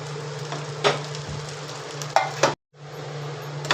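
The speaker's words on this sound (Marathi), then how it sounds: "भेंडी तेल टाकून चांगली परतून घेतली आहे" Half a kilo of okra stir-fried in oil for a Malvani-style bhaji: a steady sizzle with a low hum beneath and a few scraping stirs, with a brief dropout near the end.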